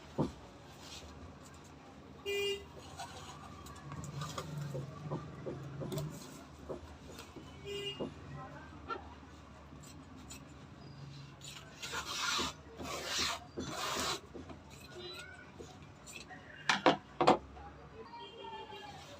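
Scissors cutting blouse fabric and lining on a table, with intermittent rasping snips and rustling cloth up close, some louder clusters of cuts toward the end.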